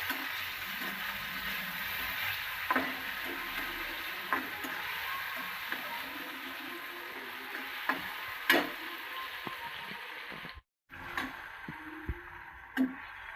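Browned onion and added tomatoes fry softly in a pan, a faint, steady sizzle broken by scattered light taps and scrapes of a stirring spoon.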